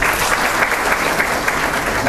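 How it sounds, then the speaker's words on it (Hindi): A lecture audience breaks into applause; a full, steady wash of many hands clapping at once, loud and close, continuing without pause for about two seconds. "तालियां हो जाए।"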